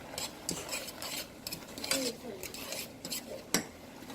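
A utensil stirs zucchini noodles in a skillet, scraping and clinking against the pan in irregular strokes with a few sharper taps, close and moderately faint, with light sizzling underneath.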